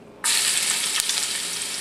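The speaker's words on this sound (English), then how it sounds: "you can see the oil sizzling a bit. Let's just add a bit of the garlic" Garlic dropped into hot oil bursts into a loud, steady sizzle that starts abruptly and holds for a second and a half, close and alone, for an udon noodle soup.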